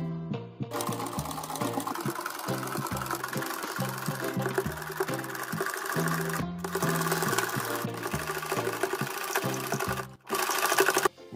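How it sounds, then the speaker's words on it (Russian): Sewing machine stitching around the edge of a fabric vest, running in a rapid steady mechanical rattle that carries close and continuous, with a couple of brief pauses. "выворачиваем жилет и прошиваем его по кругу на швейной машинке"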